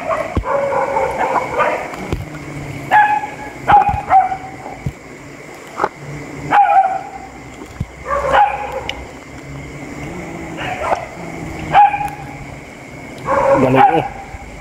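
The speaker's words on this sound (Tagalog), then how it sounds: "Ingay ng aso." Repeated dog barks in short bursts, several spaced across the clip, fairly close, with some background voices and outdoor noise, at a catfish fishing spot in Trece Martires, Philippines.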